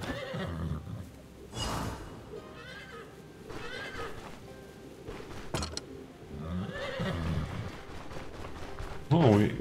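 Horses neighing in the fantasy role-playing video game StoneShard, in a city near the docks: several whinnies rise over a busy ambient bed with a voice talking throughout, and a louder neigh comes near the end.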